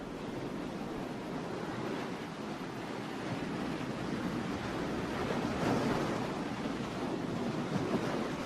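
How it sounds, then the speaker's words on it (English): Waves crash steadily along a ragged, rocky northwest ocean coast dotted with tide pools, a loud continuous surf roar with rising swells and some wind buffeting the microphone. "crashing waves form a ragged shoreline, pocked with rocky tide pools"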